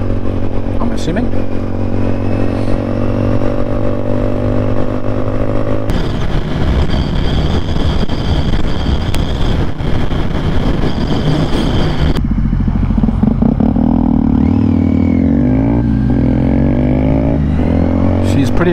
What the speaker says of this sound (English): She's pretty loud, this bike.